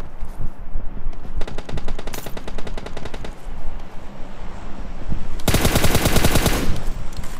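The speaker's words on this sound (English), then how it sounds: "Just keep shooting at him." Rapid machine-gun bursts from an online shooter game, several sustained volleys of automatic fire, the last one loud and dense, with scattered single shots between them and no talk over it.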